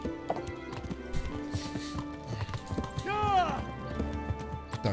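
Hooves of a horse in Kingdom Come: Deliverance clop in a steady trotting rhythm throughout, with a brief neigh midway, under someone talking and other game sounds.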